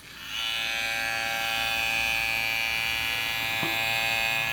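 An electric Suprent hair clipper with a fade blade switches on and runs with a steady, close buzzing hum, continuous and even throughout.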